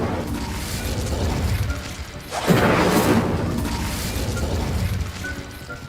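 An Incendio fire spell cast in a Harry Potter video game bursts out with a sudden whooshing blast of flame midway, over a continuous rumbling game background.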